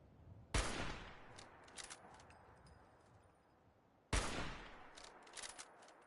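Automated turret opening fire in the video game Fallout 4: two separate sharp bursts a few seconds apart, each a loud crack with a trailing rumble, followed by fainter clicks and rattles with no talking.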